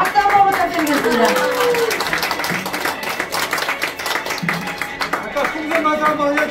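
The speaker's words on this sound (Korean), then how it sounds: "오늘따라 유난히 흘리시는 우리 마술사님께 박수 한번 부탁드리겠습니다" An audience at a Korean global lecturers' association year-end event claps for a magician, a dense patter of hands mixed with voices talking and calling out over it.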